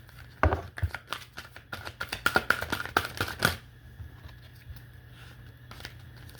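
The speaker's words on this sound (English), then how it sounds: "I'm going to shuffle one more time." Cards are riffled and bridged in a few quick, crisp bursts close by, followed by quieter rustling and near silence.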